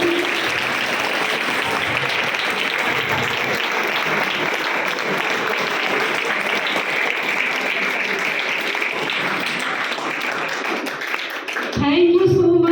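A hall audience at a World Mental Health Day awareness session claps loudly and continuously for several seconds, a dense, even applause that cuts off abruptly near the end.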